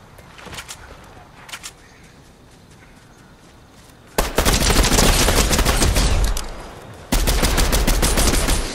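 Rapid bursts of automatic gunfire in the Fortnite video game, with a few faint shots early on, then two long, loud sustained volleys up close.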